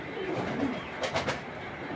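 A male silver pigeon coos softly in a short run of low, throaty pulses, close by over a faint background hum.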